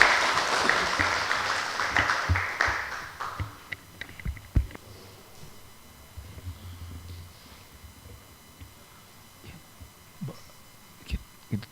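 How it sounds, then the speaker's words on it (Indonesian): Applause from a seminar audience after a professor is introduced, a dense patter of clapping that swells over the first few seconds, then thins out into scattered claps and room noise. "Kita beri tepuk tangan yang meriah untuk Profesor Binsar."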